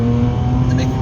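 A high-revving sports car engine, revving to 10,000 RPM on coilover suspension, drones loudly along twisty country lanes, with a steady throaty tone and tire noise. Voices talk over it.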